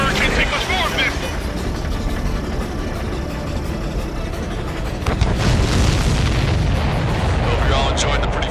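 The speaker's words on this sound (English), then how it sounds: "Did you see that explosion?" An explosion rumbles through an aerial dogfight in Ace Combat 7, flown in an F-16: loud, dense roaring booms that swell into a heavier burst midway, with voices speaking over the din.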